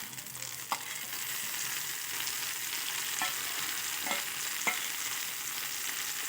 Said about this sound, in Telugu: దీనిలో కూడా ఒక రెండు నిమిషాలు కొంచెం వేగనిద్దాం